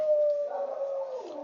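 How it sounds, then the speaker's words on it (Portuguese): A dog howls in one long, sustained, wavering tone, close and clear, with the pitch sliding downward at the end. "Esse aí adora fazer esse uivo. Aí ele começa a uivar, os outros param."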